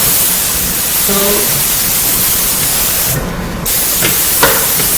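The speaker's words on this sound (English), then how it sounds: "I'm gonna spray it all over." Non-stick cooking spray hits aluminum foil in one short, sharp hiss of about half a second, set against a constant background hiss and a few faint clicks and taps.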